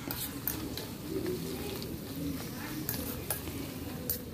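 A herbal hair oil mixture being stirred in a pan, the spoon scraping and clinking against the metal in an irregular, close rhythm over a low continuous sizzle, with a few sharper taps standing out.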